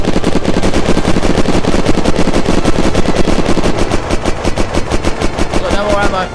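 Rapid automatic gunfire in a video game raid mission, a dense, loud, continuous stream of shots for several seconds that eases slightly toward the end.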